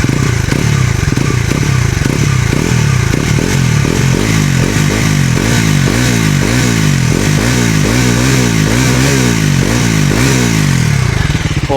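A Bajaj Pulsar NS400Z with an under-belly exhaust revs repeatedly and loudly up close, each blip rising and falling in a steady rhythm with a bassy, growling drone throughout.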